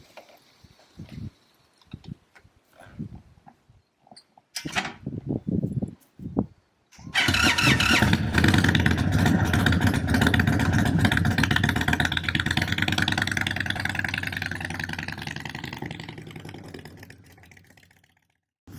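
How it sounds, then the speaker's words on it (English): A 2023 Indian Chief Bobber motorcycle: a few clicks and handling noises, a brief crank, then the engine fires into a loud, close, rumbling idle and revs as it pulls away, gradually fading before cutting off. "First ride, Indian Chief. Let's go."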